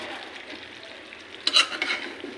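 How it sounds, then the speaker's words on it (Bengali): Potatoes tumble into a pan of frying meat in a home kitchen: a steady soft sizzle, then a short cluster of louder crackling bursts and stirring scrapes near the end. "এবার আমি মাংসের সাথে কিছু আলু দিয়ে দিচ্ছি"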